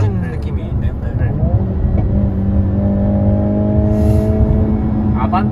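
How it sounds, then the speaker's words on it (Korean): Hyundai Kona N in N mode, engine and exhaust droning and rising in pitch as it accelerates, heard from inside the cabin while people talk over it. "배기음이 분명히 들리긴 해요."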